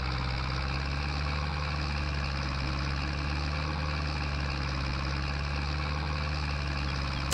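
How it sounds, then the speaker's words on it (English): A small farm tractor in Farming Simulator 22 runs at a steady, even engine drone with a low harmonic hum, unchanging and continuous with no speech over it. "I do love this little tractor,"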